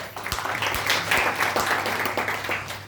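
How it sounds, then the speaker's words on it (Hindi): Audience applause for a product presentation at a company event, a steady crowd of clapping hands sustained for a few seconds with no voices over it. "ताली हो जाए इसके लिए।"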